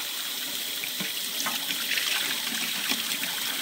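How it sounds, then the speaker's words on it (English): Water runs steadily from a faucet into a sink while chickens are rinsed clean during a home poultry processing day, a continuous splashing stream with small irregular spatters, close and moderately loud. "Then we bring them over to the sink and we just rinse everything out really good"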